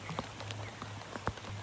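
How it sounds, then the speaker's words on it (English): Rain falls outdoors as a soft, uneven patter of drops with a few sharper close taps over a low steady hum. "Guys, it's raining. Oh my god, it's actually raining."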